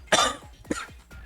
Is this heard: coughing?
yes